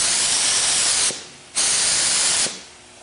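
Spray gun laying down a coat of primer in two loud, steady hissing bursts, each about a second long with a short pause between, close to the listener.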